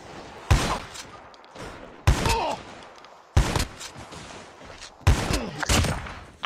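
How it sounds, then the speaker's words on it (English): Bursts of AK rifle fire in an online video game, four loud volleys of rapid shots spaced about a second and a half apart, each sharp onset trailing into a short ringing decay. "this AK has so high recoil"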